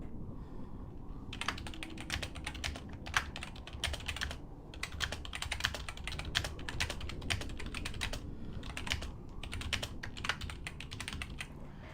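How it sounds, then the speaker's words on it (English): Someone types steadily on a clicky computer keyboard while playing Final Fantasy XI. The close, rapid keystrokes come in dense bursts with short pauses, over a low background hum. "You guys just hear the sound of a clicking keyboard, and that's all you really hear."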